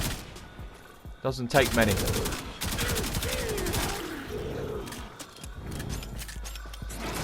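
Kuva Karak assault rifle firing in the game Warframe, a rapid burst of loud, close automatic shots crackling for about a second, then a voice talking over the lingering combat sounds.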